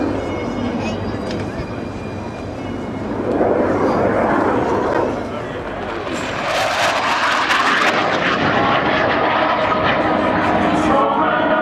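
Team Viper jet aircraft roar past at the Waddington air display, a loud sustained engine rush that swells and grows harsher as it passes close, with faint voices underneath.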